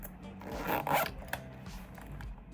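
A make-up bag's zipper gives a short, close rasping pull, with faint rustling and handling noises before and after it.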